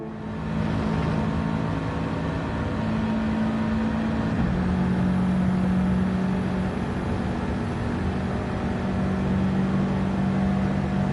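Subaru WRX Gr.4 race car at Deep Forest Raceway held in 5th gear toward the start-finish line in a racing game, a steady, loud engine drone with a constant pitch that shifts slightly partway through, running without speech.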